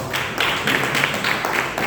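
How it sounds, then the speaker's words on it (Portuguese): A church congregation applauds together, a steady wash of many hands clapping with a loose, regular pulse, moderately loud and filling the room without any talk over it. "aplauda a palavra de Deus, muito forte"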